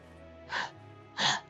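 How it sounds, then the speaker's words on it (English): Two short breathy gasps from a character voice track in the Norn9: Var Commons visual novel, spaced about half a second apart, close and clear over a quiet background. "He's panting"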